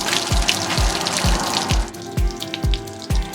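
Water drains from RV plumbing during winterizing with a Nautilus P4, a steady close gush broken by regular rhythmic low thumps about every half second.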